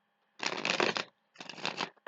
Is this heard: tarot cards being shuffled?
yes